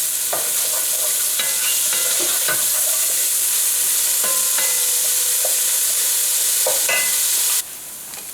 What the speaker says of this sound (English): I can add my chopped onions, and I will saute the onions